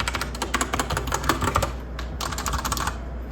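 Rapid, close-up typing on an Actto Retro B705 keyboard with soft, muffled keystrokes in quick bursts, pausing briefly before resuming; no voices.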